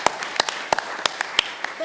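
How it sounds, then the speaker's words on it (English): Scattered clapping from a small audience at a Montgomery County commission meeting, a dozen or so sharp, uneven claps close by over about two seconds, thinning out at the end. "In fact, I think we should applaud our veterans."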